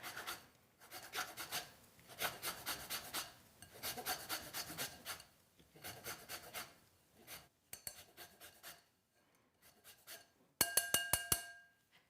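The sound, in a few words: zesting a whole lemon on a grater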